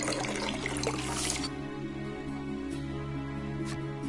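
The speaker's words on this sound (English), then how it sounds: "Polka collects some of the lake water in a bottle." Lake water splashing and trickling as it is scooped into a bottle in the video game Voice of Cards, a steady watery flow under soft background music, busiest in the first second and a half before settling into a quieter pour.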